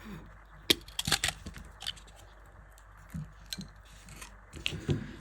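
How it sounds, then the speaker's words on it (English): Beading wire being cut with cutters while making a lariat necklace, several sharp small snips and clicks scattered through a quiet room, with light handling noise between them. "Push our wire over and then cut our wire off."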